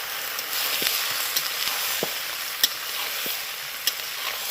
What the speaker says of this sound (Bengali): আর এটাকে দিয়ে ভালো করে কষাতে হবে